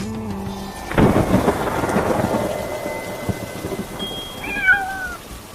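A sharp thunderclap cracks in and rolls into a long rumble over steady rain during a dramatized horror episode, followed near the end by a brief meowing cat.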